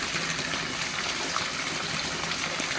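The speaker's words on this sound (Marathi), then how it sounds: "ही गल्लीतून पाणी वाहत आहे पाहू शकता" Rainwater rushes down a village lane in a steady, close gushing stream, a continuous watery wash with no voices over it.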